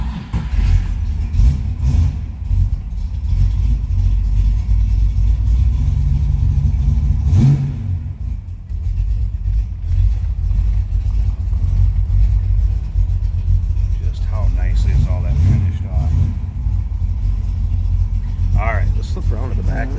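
A 1966 Ford Mustang Coupe engine turning over and running close by with a deep rumble and several revs rising and falling, while people talk over it at times.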